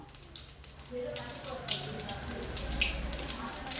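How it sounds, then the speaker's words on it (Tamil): Mustard seeds crackle and pop in hot oil, a continuous close sizzle with scattered sharp spits, while someone talks over it. "கடுகு நல்லா வெடிச்சிருச்சு"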